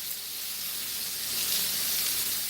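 Shrimp frying in a pan as they are turned over, giving a steady, close, bright sizzle with no pauses and no talk.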